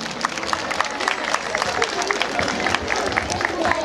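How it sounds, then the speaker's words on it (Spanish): Applause breaks out for a mother at a municipal Mother's Day ceremony, a dense wash of clapping with crowd murmur and some voices mixed in, steady and fairly loud throughout. "Un aplauso muy fuerte, por supuesto, para esta madre."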